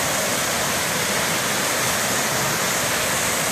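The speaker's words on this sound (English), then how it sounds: "Oh, we have some waterfalls here." Waterfalls on a river roar in a steady, dense rush of falling water, loud and constant with no voices over it.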